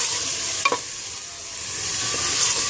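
Ginger garlic paste frying in a pot for a quick biryani, a steady close hiss of sizzling with a short utensil clink near the start, no voices.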